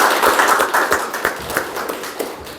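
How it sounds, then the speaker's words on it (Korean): Crowd applause at a Sejong education superintendent candidates' forum, dense clapping that gradually thins out and fades into scattered claps. "다시 한번 큰 박수 부탁드립니다."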